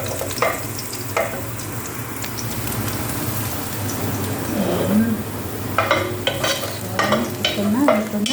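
Garlic and then onion sauté in a pan for an Arabic-style lunch, giving a steady gentle sizzle with scattered stirring scrapes and a brief voice-like murmur.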